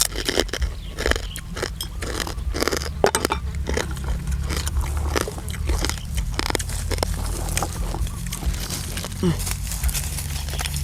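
Pork cracklings crunch and crackle as someone eats alongside khanom jeen with coconut curry and chicken feet, repeated sharp bites and chewing up close amid a busy, noisy background.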